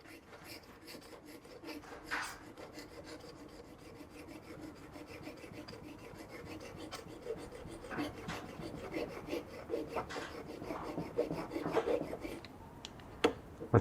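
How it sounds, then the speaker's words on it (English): A Toughbuilt scraper utility knife drags across a wood surface in a steady series of rasping, rubbing strokes, up close and fairly quiet, building slightly louder toward the end. "This is meant to be a surface scraper."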